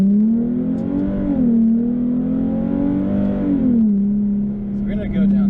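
Nissan 370Z engine climbs and falls through revs during downshifts, a steady close engine drone with rising and dipping pitch, throttle blips around shifts, briefly eased near the end.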